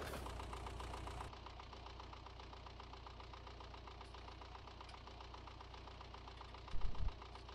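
A YUMZ-6 tractor engine idles steadily in Farming Simulator 2019, a constant low knocking rumble with no talk, briefly louder near the end.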